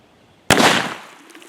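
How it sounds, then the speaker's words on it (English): A single sharp, loud gunshot from an 1847 Walker 18-inch carbine loaded with 55 grains of 3F black powder and a .457 ball, fired at water jugs, with a brief spray and decay after the blast. "Let's shoot on those jugs and just see what happens"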